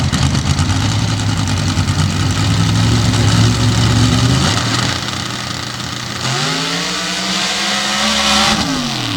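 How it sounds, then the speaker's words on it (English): A Magician rear-engine rail dragster with a 960 cubic inch Sonny's engine at a drag strip, its engine droning loud and steady, then dropping and rising again in pitch as it revs. "this Magician rear-engine rail with a 960 cubic inch Sonny's power plant behind the driver comes to the line"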